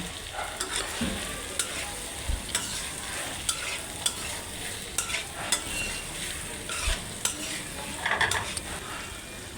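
Potatoes for aloo dum frying in a pan with Maggi masala, stirred continuously: a soft sizzle broken by frequent scraping strokes and light utensil taps in an uneven rhythm, close and moderately quiet, without speech.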